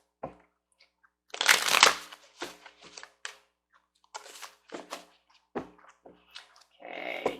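Oracle cards being shuffled by hand, with bursts of riffling and papery crinkling separated by short pauses, close and clear with no talk.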